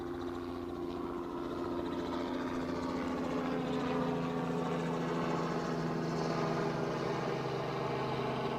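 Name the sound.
helicopter flying near Newcastle airport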